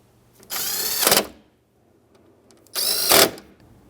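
A power drill drives two T20 screws into the dash trim of a 1992-1996 Ford F-150, two separate whirring bursts of about a second each, close and loud, with a brief pause between them.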